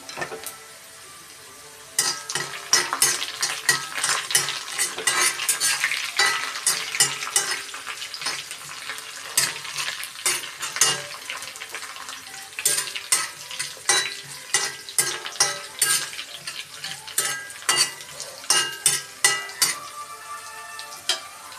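Sliced onions for a pickle frying in a pan, continuous sizzling under repeated metal scraping and clinking as a spoon stirs, the strokes falling into a quicker rhythmic run near the end.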